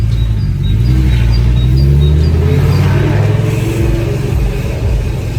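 A car engine rumbles with a steady low drone, rising slightly in a mild rev and holding loud and close throughout, with no voices.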